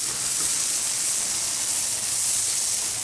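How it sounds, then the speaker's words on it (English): Onions sizzle on a Blackstone griddle, a dense, steady hiss that holds at an even level close to the microphone, with no talk. "I'm gonna go ahead and get these grilled onions going also."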